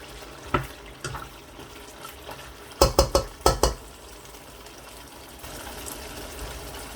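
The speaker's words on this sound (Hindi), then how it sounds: "इसी तरीके से गोश्त को अच्छी तरह से भून लूँगा" Meat (gosht) with tomatoes being sautéed over high heat for Balochi biryani, with a quiet sizzle under a cluster of sharp spoon scrapes and clanks against the pot, clustered in a short burst midway, and no talking.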